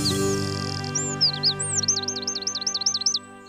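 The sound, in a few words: Eurasian wren singing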